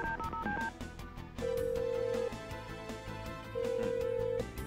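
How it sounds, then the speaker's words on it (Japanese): Synthesized telephone dialing from the Tokimeki Memorial video game: a quick run of short key tones, then two long steady ringing tones separated by a pause, set against a busy game-music backdrop, with no voices. "さ、よしおに電話しようって言ってた"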